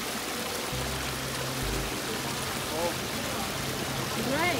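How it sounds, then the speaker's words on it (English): Water runs into a water bottle outdoors in Sicily, a soft continuous trickle and splash under a low hum, with a voice speaking partway through. "filling our water bottle"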